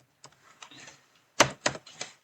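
Typing on a computer keyboard while writing a script in the Godot editor: a handful of quiet, uneven key clicks in short bursts, with a couple of louder taps near the end.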